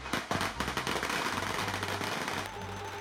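Firecrackers crackle in a dense, continuous string of sharp pops at a village wooden-house main-beam raising ceremony, loud and close throughout, with the barrage thinning slightly near the end.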